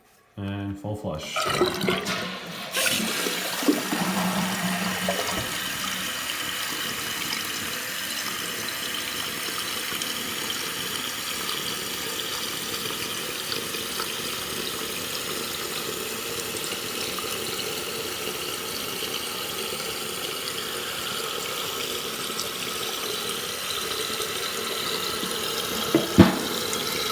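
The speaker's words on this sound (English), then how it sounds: "And full flush." Full flush of a Pfister Fullerton dual-flush toilet: a loud gushing surge at the start, then a long steady rush of refilling water close by that continues to the end.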